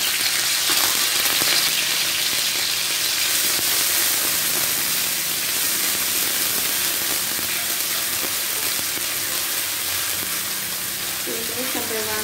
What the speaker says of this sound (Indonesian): saya akan goreng bawang.